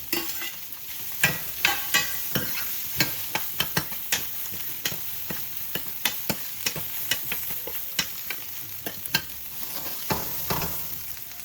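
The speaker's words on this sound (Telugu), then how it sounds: "దీంట్లోకి మనం బాయిల్ చేసి పెట్టుకున్న పొటాటో ఇంకా బఠానీ వేసేసుకుందాం." Onions frying in a pan as boiled potatoes and peas go in, with repeated sharp scraping clicks of a spoon stirring over a steady close sizzle, no voices.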